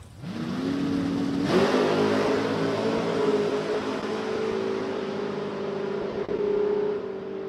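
A Fox body Mustang and a Camaro launch side by side at a drag strip, engines roaring loud and sustained as they rev and pull hard, with pitch climbing after a sharp surge about a second and a half in.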